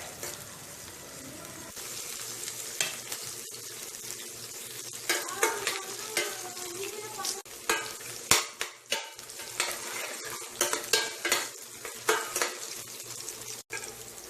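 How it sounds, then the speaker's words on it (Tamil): Onions sauté in a pan for a hotel-style plain salna, a steady sizzle with frequent scraping stirs and metallic clinks that grow busier and louder midway, ending with one sharp knock. "இப்போ வெங்காயம் சேர்த்து வதக்கிக்கலாம்."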